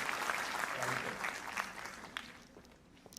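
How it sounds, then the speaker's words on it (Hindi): An audience applauding children at a Republic Day cultural program, a dense, fairly quiet patter of clapping that gradually thins out over about three seconds. "एक जोरदार तरीके से ताली बजा के सब बच्चों का हौसला बढ़ाने के लिए।"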